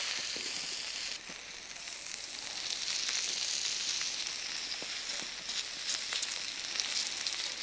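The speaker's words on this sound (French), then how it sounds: "Allez, c'est parti, du coup, on va faire griller nos petits yakitori ici." Small chicken yakitori skewers sizzle on a barbecue-style grill in a steady, dense, hissing crackle with occasional pops, close and continuous, with no voices.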